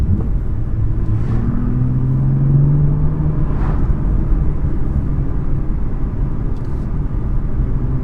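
Exhaust of a BMW M2, a deep, steady low rumble with a smooth droning tone that swells slightly midway, close and continuous with no voices.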